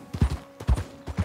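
Horse hooves clip-clop in Red Dead Redemption 2, a brisk repeating rhythm of hoofbeats in quick groups of two or three, close and fairly loud with no talk over them.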